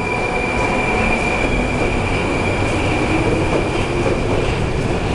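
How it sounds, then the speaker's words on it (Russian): A Moscow Metro train runs through the above-ground Vykhino station, a loud continuous rumble with a steady high squeal of wheels and no talking. "Город Москва. Московский метрополитен."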